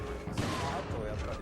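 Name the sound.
gunfire in video game Resident Evil 4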